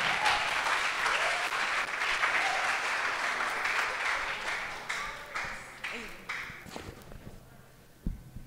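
Audience at a campus developer event in a college hall breaking into applause, dense clapping that holds strong for several seconds, then thins and fades out, leaving a few scattered claps and shuffling.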